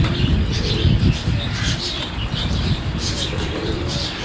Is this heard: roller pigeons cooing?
yes